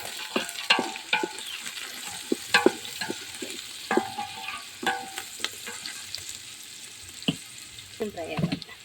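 Spices with turmeric fry in a pan over a wood-fired stove, giving a steady close sizzle broken by sharp scrapes and taps from a stirring spoon, with no talk.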